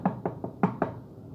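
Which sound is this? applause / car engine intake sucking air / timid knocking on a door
timid knocking on a door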